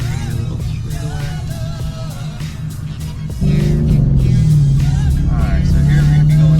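A 2016 Camaro SS with bolt-on parts, running on E85, pulls hard from inside the car, its engine note rising in pitch and getting noticeably louder partway through as it accelerates down a straightaway, with a voice talking over it.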